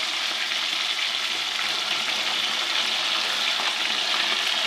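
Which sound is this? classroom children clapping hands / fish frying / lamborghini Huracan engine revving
fish frying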